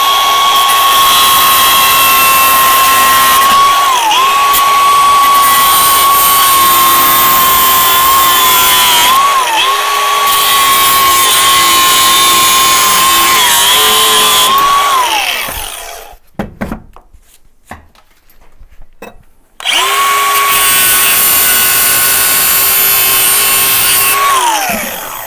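A high-pitched power tool cuts off fixings while rotten floors are stripped out, a loud sustained whine broken by brief pitch dips and several short pauses, with a quieter gap of scattered knocks before it starts again.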